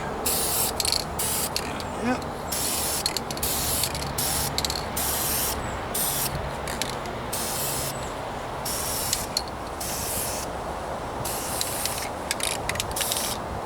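Rattle can spray painting a 1998 Toyota Corolla rear bumper outdoors, with close, loud, continuous hissing bursts broken by many short gaps and faint clicks of the nozzle.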